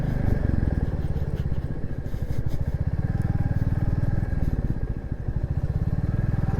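A Royal Enfield motorcycle rides along the Dhaka Bypass Expressway, its steady loud thumping engine continuous throughout, with wind rush and road noise.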